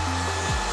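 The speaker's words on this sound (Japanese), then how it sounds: "流す方向にドライヤーで乾かしていきます" A hair dryer blows steadily on short hair in a mushroom cut, a continuous close whir with a slight pitch dip near the end.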